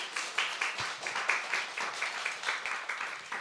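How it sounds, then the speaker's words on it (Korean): A church congregation claps in encouragement at a Christmas service, a steady run of fairly close, rhythmic handclaps with no talking over them. "우리 한번 격려 박수 한번 해주세요."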